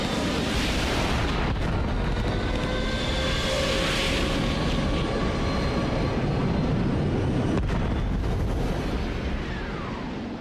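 Fighter jet roar as the aircraft climbs and dives over an Egyptian airfield, a loud sustained rushing drone with shifting whine, close and steady with no talk.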